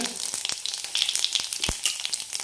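Mustard seeds, cumin and asafoetida hit hot oil with a dense, close crackling sizzle and rapid small pops, with no voices.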